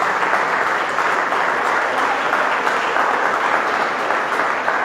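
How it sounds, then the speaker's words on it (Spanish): Steady, dense applause from a church congregation fills the space evenly for several seconds, a continuous wash of many hands without a break. "Vamos a darle un fuerte aplauso a Jesucristo."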